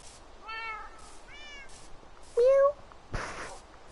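Minecraft cats meow several times in a row, three short separate calls with a louder, sharper meow near the end, followed by a brief soft thud.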